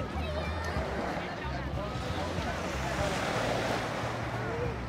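Ocean waves on a beach in Nice wash in as a steady, full roar of surf with gusts of wind buffeting the microphone, continuous and close throughout.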